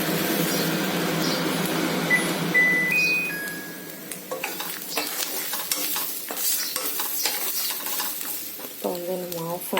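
Coconut and tamarind frying in an iron pan for pirandai thuvayal, a soft steady sizzle with repeated scraping strokes of stirring and a few light clinks.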